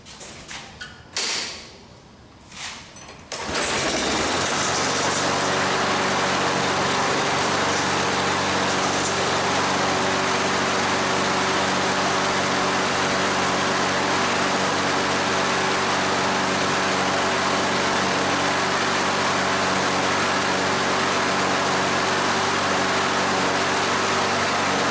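A Briggs and Stratton small engine, freshly fitted with a rebuilt carburetor, starts after a few seconds of quiet handling noise and then runs loud and steady close by, a continuous droning roar with no talk over it.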